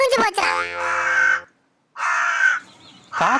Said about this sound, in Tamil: காக்கா கா கான்னு சொல்லிட்டு போய்